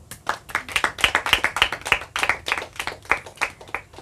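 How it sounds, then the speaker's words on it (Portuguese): A studio audience at a Portuguese TV quiz show claps, crisp individual hand claps in a brisk, uneven flurry, close and clear with no talk. "eu quero palmas para o nosso público"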